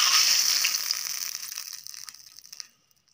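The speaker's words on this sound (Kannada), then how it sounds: "ಒಗ್ಗರಣೆ ಸೇರಿಸೋಣ." Mustard seed tempering in hot oil poured into a fenugreek tambuli, a loud hissing sizzle with crackling pops that fades steadily over a few seconds to silence.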